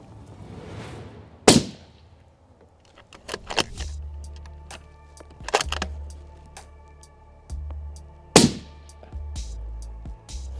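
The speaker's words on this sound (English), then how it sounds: "we're going to take 2 shots with the suppressor on at a target" Two suppressed rifle shots fired at a target, each a sharp, loud crack spaced several seconds apart, with quieter mechanical clicks and handling sounds between them and no talking.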